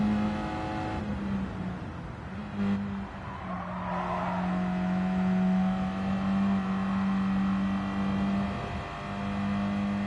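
Engine of a 2014 Honda Fit Hybrid climbing through the gears, loud and steady with a sustained droning tone that rises and shifts, heard close from inside the car without talk.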